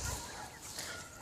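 Young, fully feathered chickens clucking softly in a muddy coop, faint and somewhat distant, with a slightly louder cluck near the end.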